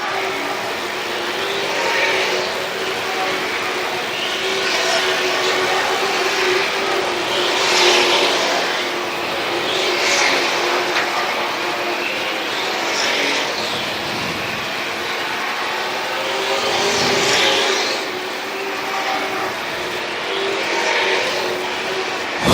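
Stock cars racing at the 2018 Independence Bash 400 roar past in a steady stream, with engine noise surging and fading as several cars pass close by, one after another, and no talk over it.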